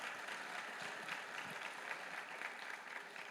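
A church congregation claps together in a steady, dense patter of applause that holds at an even level throughout, heard from within the crowd.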